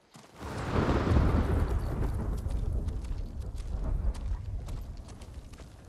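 Horse hooves pound in Ghost of Tsushima, a deep rumbling gallop that surges in loudly near the start and then settles into rapid, fading clip-clops.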